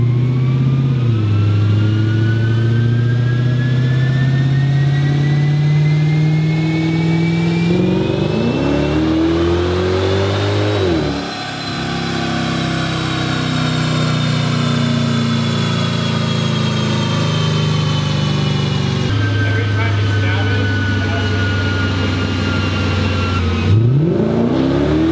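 A slammed stance car with rear wheels barely touching runs on a dyno, its engine droning loud and continuous with rising revs, a dip around the middle, then climbing again and a final rev near the end.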